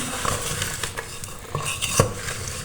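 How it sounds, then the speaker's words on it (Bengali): A wooden spatula stirs and mashes chickpea dal with mixed vegetables in a pot, giving quick close scrapes and light knocks against the pot over a faint cooking hiss. "আমি কাঠের খুন্তিটা নিয়ে নিলাম আমি একটু ভালো করে এরকম মেখে দিব"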